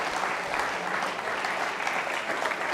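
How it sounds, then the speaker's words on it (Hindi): An audience at a Jain school quiz show on Lord Mahaveer applauds in thanks to a cooperative consumer federation sponsoring the prizes: sustained, thick clapping from many hands, even and close, with no talking over it. "तालियां बजाइए आभार प्रदर्शन के लिए"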